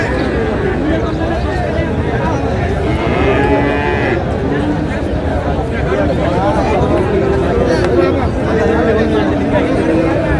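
Sahiwal bull calves moo repeatedly at the busy Raniganj cattle market in Dinajpur, their calls rising over a dense crowd of people talking and bargaining nearby.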